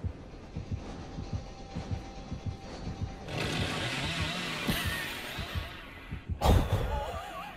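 A chainsaw revs in Dead by Daylight, a rattling motor buzz that swells midway, then slams into a gate with one loud, sharp impact near the end.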